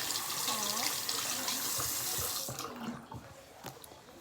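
Water runs from a kitchen tap while a container is rinsed out, a steady splashing rush that breaks into irregular sloshes and drips as the flow eases.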